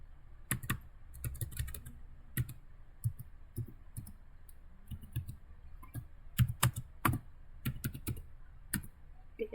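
Keys clacking on a computer keyboard while network configuration commands are typed, a run of quick irregular clicks and firmer Enter-style strikes, close and alone with no talking.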